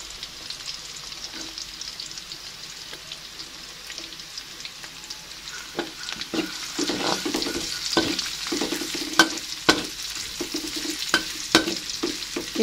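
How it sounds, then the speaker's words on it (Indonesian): Garlic and shallots sizzle and crackle in a frying pan, gentle at first and then livelier, with the clink and scrape of stirring growing busier toward the end, heard close with no talking. "Kita tumis bawang putih dan bawang merahnya sampai agak layu ya teman-teman"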